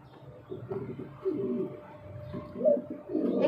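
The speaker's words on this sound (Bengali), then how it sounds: "এখানে আরেকজোড়া ঘুঘু পাখি দেখছেন" Low, soft cooing of a pair of turtle doves in several rounded phrases, close by and fairly quiet, with short pauses between calls.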